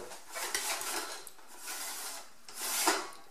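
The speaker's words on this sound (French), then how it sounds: "Il y a une petite tirette qui est ici, là, qui permet, en la manœuvrant," The small sliding cleaning tab of a PALONE 20W UV mosquito lamp is worked back and forth, giving three or four dry scraping, rasping strokes along the metal grid, close up and fairly quiet.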